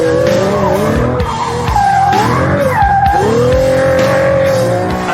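The F-Roadster's tyres squeal and skid loudly through corners, with a high, wavering screech rising and falling over the engine's continuous roar, close by.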